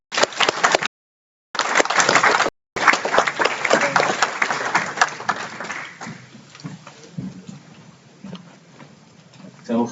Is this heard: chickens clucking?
no